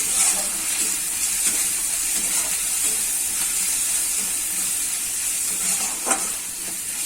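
Garlic and onions sizzle steadily in a hot pan, a continuous bright frying hiss with occasional soft stirring scrapes, close and even throughout.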